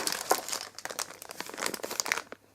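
A plastic bag crinkles and rustles close by as a doll named Ellie and her accessories are tucked inside, with dense irregular crackles across about two and a half seconds and no talking.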